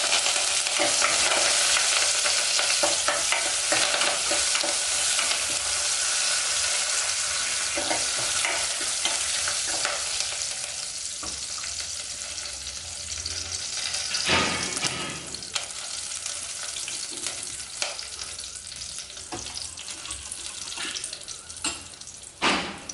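Steady loud sizzling of curry leaves frying in hot oil with asafoetida for a Chettinad lentil rasam tempering, close up, gradually settling with occasional stirring clinks and crackles.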